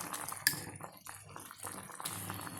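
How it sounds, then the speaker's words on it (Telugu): Sour buttermilk poured over pieces of bitter gourd in a pan, a soft, close liquid splash with a brief clink at the start, then a faint bubbling trickle. "అందుకని పులిసిన మజ్జిగ పోసుకోండి."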